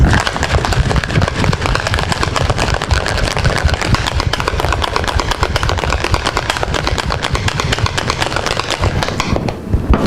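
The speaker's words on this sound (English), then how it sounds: "we're going to give it a final shake for about 10 seconds" Liquid MuscleEgg egg drink is shaken hard in a shaker for about ten seconds, a loud, fast, continuous rattling slosh that stops abruptly near the end.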